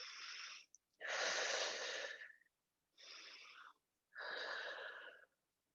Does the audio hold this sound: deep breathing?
yes